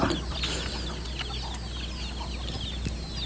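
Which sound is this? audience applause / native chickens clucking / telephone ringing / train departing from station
native chickens clucking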